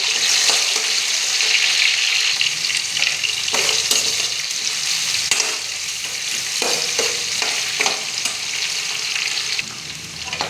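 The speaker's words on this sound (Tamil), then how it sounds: "வெங்காயம் கண்ணாடி பதம் வதங்கினதும்" Steady loud sizzling of chopped onions sautéing in hot oil until glassy, with occasional stirring scrapes and crackles, continuous throughout with no talking.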